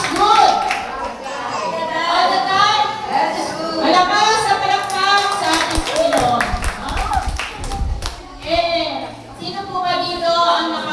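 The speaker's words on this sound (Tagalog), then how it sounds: "Malakas na palakpak sa ating Panginoon." Clapping fills a chapel during a Catholic seminar, a steady patter from an audience under and between a speaker's voice and some chatter.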